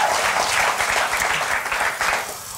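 A television studio audience applauding, a brief burst of dense clapping at steady loudness that eases slightly at the end.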